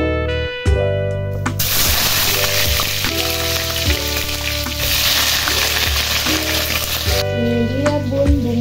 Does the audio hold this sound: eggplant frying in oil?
yes